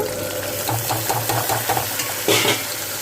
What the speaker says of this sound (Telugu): ఇప్పుడు ఉల్లిపాయ పచ్చిమిరపకాయ కూడా వేసేసుకుందాము